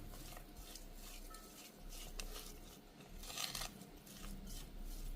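Carrot salad with lime juice and a little coconut oil is mixed by hand in a bowl, making faint, continuous rustling and squishing at low volume.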